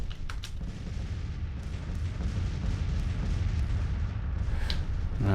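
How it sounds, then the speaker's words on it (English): Artillery fire in the Civil War strategy game Grand Tactician: The Civil War: a dense, rumbling layer of distant cannon booms rolls on continuously, with a few sharper cracks standing out near the start and near the end. "I'm happy to start with a bit of an artillery duel."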